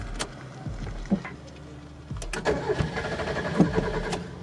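A Mazda Miata with a fuel-pump problem cranks and catches, running roughly and unevenly close by with chattering, sputtering bursts before it falters.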